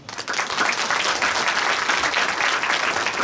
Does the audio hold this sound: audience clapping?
yes